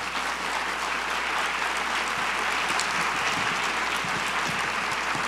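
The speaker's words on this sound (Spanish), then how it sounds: "por todos sus aplausos" Sustained applause from a large audience fills a summit hall, dense, even clapping holding steady from start to finish with no voices on top.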